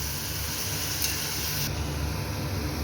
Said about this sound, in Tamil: இப்போ கத்திரிக்காவை சேர்த்துட்டு இதை நல்லா வதக்கிக்கலாம்